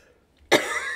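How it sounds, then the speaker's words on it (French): A single sharp cough bursts out close and loud after a near-silent moment, its breathy rasp trailing off briefly. "je suis en train de tousser et éternuer en même temps"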